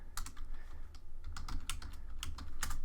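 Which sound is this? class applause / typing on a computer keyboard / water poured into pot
typing on a computer keyboard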